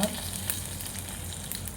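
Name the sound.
turmeric added to sizzling oil tempering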